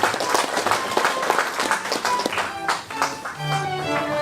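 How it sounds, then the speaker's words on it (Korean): Applause from the audience at the 16th Nogunri Peace Prize award ceremony, a steady wash of many hands clapping close by with some voices mixed in, lasting the whole stretch. "축하의 박수 보내주십시오"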